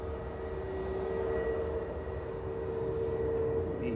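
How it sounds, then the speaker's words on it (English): Ryanair Boeing 737-800 operated for Malta Air departing Manchester Airport for Paris, a steady jet engine drone with a sustained whining tone over low rumble, continuous and moderately loud with no voices. "Ryanair off to Paris, some 37800 there"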